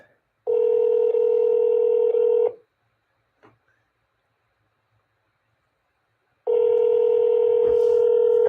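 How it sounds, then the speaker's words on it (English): Outgoing call ringback from a telephone during a live sales cold call, two long steady ring tones separated by about four seconds of near silence, clear and close. "How long are they gonna have me ringing for, man? 3 more rings."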